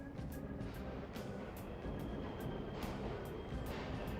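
A subway train rushes past in the video game Persona 5 Royal, a steady roaring rumble punctuated by regular, evenly spaced clacks, fairly loud and without talk.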